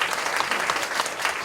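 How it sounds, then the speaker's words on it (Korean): A seminar audience gathered for a church lecture breaks into brief, dense applause, a continuous wash of many hands clapping at moderate volume with no voices over it. "다시 한번 박수 쳐주시기 바랍니다."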